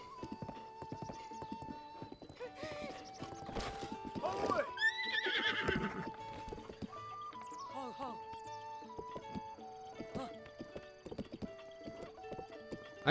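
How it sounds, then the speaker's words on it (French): Hooves clip-clop steadily as a horse runs in Zelda: Breath of the Wild, with a loud neigh and whinny breaking through midway, all set against in-game music and someone talking over it. "C'est mon cheval."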